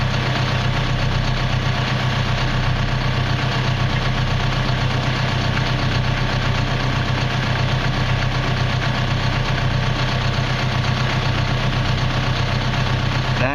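CAT D5K bulldozer diesel engine idling, a loud, steady, close rumble with an even low throb throughout.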